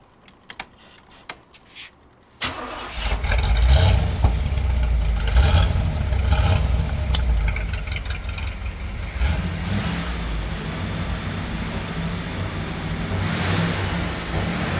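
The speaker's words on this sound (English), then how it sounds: "I'll try to crank it up in here." A 1986 Pontiac Firebird done up as a Knight Rider KITT tribute car: after a few quiet clicks, its engine suddenly catches and starts, settling into a loud, steady, close rumble that carries on to the end.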